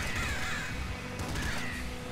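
Crows caw in the video game Nuclear Throne, two harsh rasping calls repeating over a dense, busy game soundscape.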